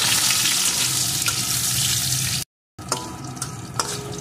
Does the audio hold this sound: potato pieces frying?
yes